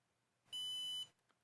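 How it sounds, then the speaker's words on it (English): A Synology DS213j NAS gives a single sharp, steady electronic beep lasting about half a second while its reset button is held, in an otherwise quiet room. "We have to press our reset button until it beeps."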